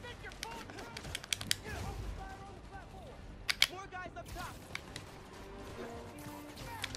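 Gunfire aimed at the player in Spider-Man: Miles Morales, sharp scattered shots and impacts cutting through game music and effects, mixed with a voice talking.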